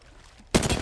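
Automatic rifle fire in the Apex Legends video game erupts suddenly after a quiet stretch, a loud close burst of rapid shots that continues to the end.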